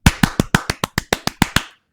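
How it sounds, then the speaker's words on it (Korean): One person claps eleven times in a quick, even rhythm. The claps are close, sharp and crisp, with nothing else around them, and silence follows. "박수 한번 치겠습니다"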